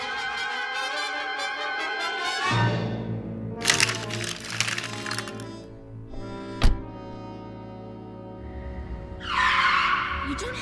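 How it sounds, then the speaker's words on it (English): A car brakes hard and skids in a 1950s science-fiction film, with a long tire screech, a sharp crack and crunching bursts. Film music plays at the start, and a fresh hiss rises near the end. "To put on the brakes so hard, Derek."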